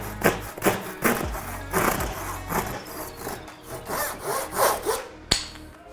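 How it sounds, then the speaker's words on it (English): A hand saw cuts through a clamped piece of wood in steady back-and-forth strokes, about a dozen rasping passes close up, ending with a sharp knock. "Start by cutting, just pulling gently to get the cut to start."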